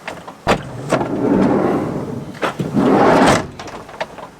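A cabinet door in a Nissan NV200 camper van conversion is opened and closed, two sliding, rubbing sweeps framed by sharp thuds and knocks, loud and close with no talk.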